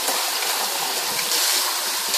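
Tap water gushes steadily over shirataki noodles being rinsed in a kitchen, a loud, close, continuous splashing stream with no voices.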